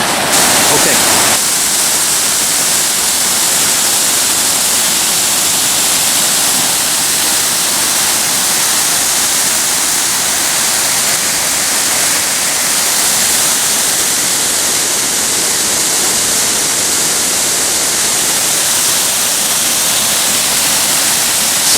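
A winter waterfall at Canyon Creek roars steadily at close range, a dense unbroken rush of falling water that fills the whole stretch without pause.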